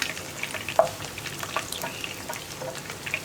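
Prawns for chilli prawns frying in hot oil, making a soft, steady crackle and sizzle with scattered small pops, heard close and fairly quiet with no voices.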